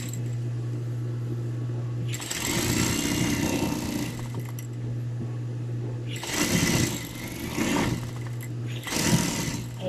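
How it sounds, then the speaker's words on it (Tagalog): A sewing machine stitching a garterized dress seam: a low steady hum runs throughout while bursts of fast mechanical stitching come and go, near and clear, with no talk. "doon tayo mag-i-start ng tahi para isara natin tong dulo."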